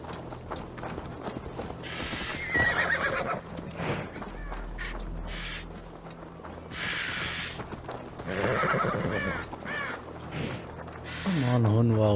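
A horse in Assassin's Creed Valhalla whinnies several times while hooves clip-clop and gear rattles, with someone talking over the game sounds throughout.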